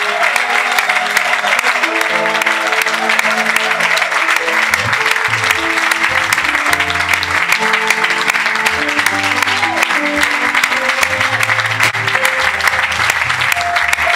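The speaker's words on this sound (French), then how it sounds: "véritablement une acclamation à Dieu" A standing church congregation applauds in praise, sustained dense clapping throughout while sustained musical tones, likely organ or keyboard, play underneath.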